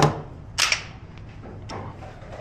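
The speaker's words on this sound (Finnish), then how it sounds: "Tyhjä laukaus." Dry-fire click of an unloaded pistol at a practical shooting competition, a single sharp metallic snap followed by a fainter click, close and crisp against a quiet room tone.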